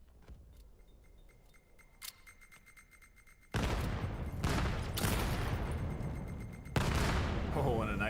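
In the VR shooter VAIL, a muffled spell with light clicks and rattles gives way to a sudden loud blast, followed by sustained, dense bursts of close gunfire that continue to the end, with a second jolt near the close.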